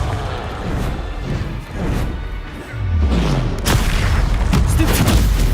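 Confringo blasting spells detonate in Hogwarts Legacy on PS5, heavy booming explosions and crashing impacts rolling one into the next, loud and dense with rumbling low end throughout the combat.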